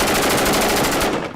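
Sustained automatic machine-gun fire from a soldier in Afghanistan combat footage, a dense, rapid, loud burst of rounds running continuously before cutting off abruptly at the end.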